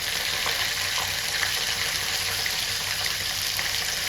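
Peanuts and curry leaves frying in hot oil in a pan over a low flame, a steady dense sizzle that stays close and even throughout.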